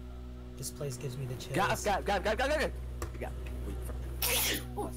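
A sneeze bursts out near the end of the clip after a stretch of conversational talk, loud and close, with a steady low hum running underneath throughout.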